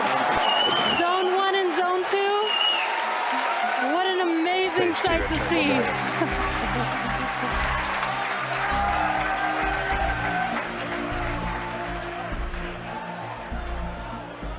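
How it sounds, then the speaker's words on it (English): Spectators applauding and cheering after twin Falcon Heavy side boosters land, a dense wash of clapping and shouts that swells then slowly fades, with a commentator's voice over the top. "You can hear our crowd going crazy right now."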